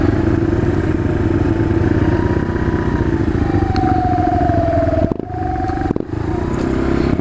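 A Sinnis Scrambler motorcycle is ridden home from work in the rain, its engine giving a steady, loud, close drone with road and wind noise and a couple of brief dips, and no talk.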